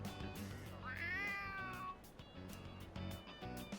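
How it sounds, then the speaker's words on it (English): A cat meowing in the video game Persona 3 Reload, one clear rising and falling meow at moderate volume over a soft game music bed. "A kitty cat! Aw, he's so cute!"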